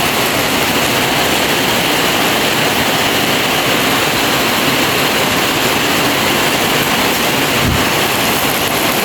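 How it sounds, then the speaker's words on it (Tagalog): Heavy rain pours onto a house under construction, a loud unbroken broadband hiss that stays steady throughout with no voices. "Pero pag ganito lang ang ulan, hindi na pasok dito sa terrace."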